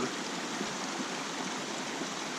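Summit City Creek, a high-country mountain stream in Alpine County, California, rushes steadily over rocks. The broad, even roar is close and continuous, with no voices and no pauses.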